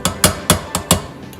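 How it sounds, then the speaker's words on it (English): A hammer drives a nail into the edge of a metal can to punch holes, giving five sharp, evenly spaced metallic taps close up in quick succession, with no talking. "Now we take the hammer and the nail and we make 2 holes"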